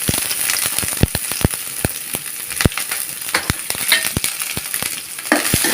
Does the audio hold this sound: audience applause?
no